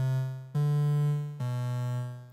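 A basic synthesizer patch plays a buzzy, harmonic-rich low tone alone, in three sustained notes, each one struck and then slowly fading.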